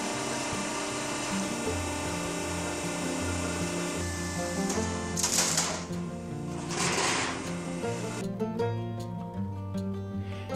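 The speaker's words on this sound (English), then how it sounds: "And this is his roller machine that he actually made." A homemade roller machine works metal barn sheets for a carport greenhouse, giving a loud, steady mechanical whir with a rhythmic pulse, broken midway by bursts of scraping metal noise.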